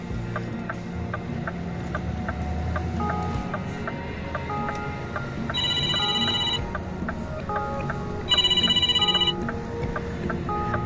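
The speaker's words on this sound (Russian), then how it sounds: "Босс звонит." A phone rings inside a truck cab on a wintry Swedish road: two bursts of an electronic ringtone, clear and close, rising over a steady engine drone with a faint repeated ticking throughout.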